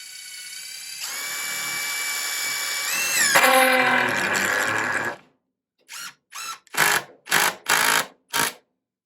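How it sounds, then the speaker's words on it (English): A power drill drives a screw into a worn star-head screw, its motor whirring loudly for several seconds, then a series of six short, sharp bursts as the bit slips and chatters on the head. "What you're hearing there is the bit slipping on the head because they're very specific"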